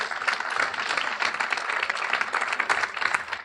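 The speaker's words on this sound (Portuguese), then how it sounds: "você pode aplaudir o Senhor?" A church congregation applauds during a Portuguese-language sermon, a dense, steady wash of clapping that holds for a few seconds at fairly close range with no talking over it.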